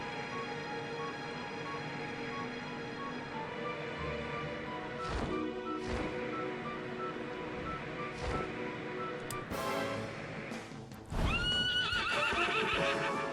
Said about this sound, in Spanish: Mira qué bonito, un caballo dragón.